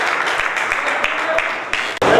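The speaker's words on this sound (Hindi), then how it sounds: "जोरदार ताली बुढ़िया के लिए" An audience in a Jain temple gathering claps loudly, a dense patter of hands that runs continuously with a few sharper claps and swells again at the end.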